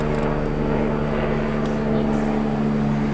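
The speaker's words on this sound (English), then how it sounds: "It's a hospital helicopter going to get somebody else." A hospital helicopter passes overhead with a steady droning, tonal rotor-and-engine hum, loud and continuous throughout.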